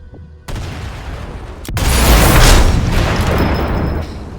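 Cannon fire and a sniper rifle shot in the video game Sniper Elite 4: a sharp crack followed by a loud, rumbling boom that swells and slowly fades over a few seconds.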